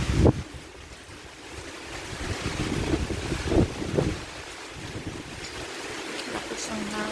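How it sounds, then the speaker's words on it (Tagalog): Strong wind during Typhoon Kristine, gusty roaring buffets against the microphone that swell and ease in waves, loud and close, with voices faintly underneath. "Lakas ang hangin."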